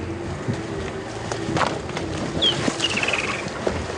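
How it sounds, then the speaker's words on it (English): A woodland kingfisher flying past gives a short, high, shrill trilling call that passes quickly amid outdoor noise and a low engine hum on a safari drive. "that was a woodlands kingfisher that you would have heard its shrill call as it came flying past"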